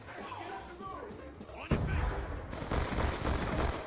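Rapid gunfire bursts in the Black Ops 2 video game, sharp cracks and a steady rattling volley following an initial loud shot, with a player talking over the shooting.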